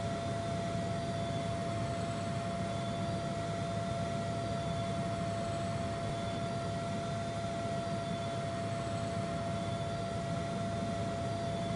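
Engine of a Lynx Mk7 helicopter in the Aerofly FS2 flight simulator, advancing toward flight idle: a constant turbine whine and broad roar with a steady high tone, loud and unchanging across the whole stretch, with no voices.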